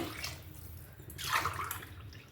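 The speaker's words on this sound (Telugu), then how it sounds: "ఆరు గ్లాసుల వాటర్ వేస్తున్నా" Water poured into a pot for aloo pulao in a short splashing gush that swells and then trails off, with a faint background hum.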